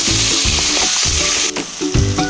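Spiced masala with salt and chopped tomatoes frying in a pan for a Bengali fig-and-prawn dish, a steady loud sizzle broken by a few pauses and scrapes as it is stirred, close by and with no talk.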